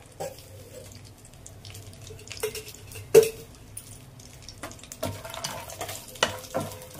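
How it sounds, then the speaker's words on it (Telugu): Whole spices fry in hot oil in a pan while making chicken pulao, giving soft sizzling with scattered sharp pops and crackles and occasional stirring scrapes, close by and without speech. "మసాలాలు ఆయిల్లో వేపేటప్పుడు పేలుతాయి అన్నమాట"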